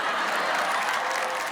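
Audience applause at a comedy poetry stage show, a dense, steady burst of clapping from a crowd, brief and fairly loud.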